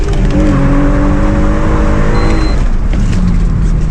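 A BMW E46 330ci with a swapped six-speed manual gearbox accelerates hard, its engine rising in pitch through the revs before easing off, loud and continuous with road noise.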